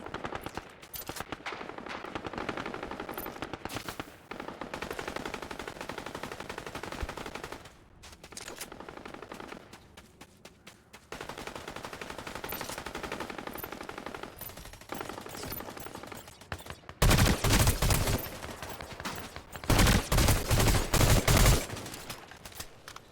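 Rifle gunfire in the video game Fortnite, sustained rapid automatic bursts over a steady game soundscape, growing louder and harsher in the closing seconds with heavy close shots.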